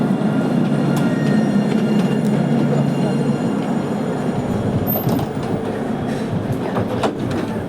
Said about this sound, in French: le tram qui passe là